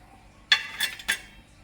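Allspice peppercorns and other spices drop into a pot of simmering broth for aspic, giving three short, bright clinks against the pot about a quarter second apart, fairly close and with no talking.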